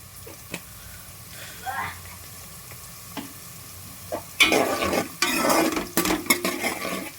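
Cumin seeds frying in hot oil in a pan for a stuffed brinjal curry, a soft sizzle with a few stirring scrapes growing louder toward the end, under occasional speech.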